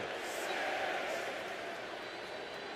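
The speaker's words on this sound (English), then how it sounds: "Khali is firing up the crowd here." Virtual arena crowd in the WWE 2K25 wrestling video game, a dense, continuous roar of cheering that swells slightly then holds steady, with a voice commenting over it.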